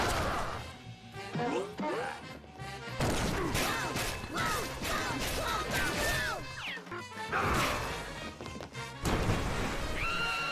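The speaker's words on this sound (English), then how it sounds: "Smashing the table, trying to obliterate the cups, and flooding your restaurant" A table is smashed and cups are broken in a Cuphead Show animated scene, with loud continuous crashing and banging, chaotic cartoon effects and whinny-like cries layered over busy music for the whole stretch.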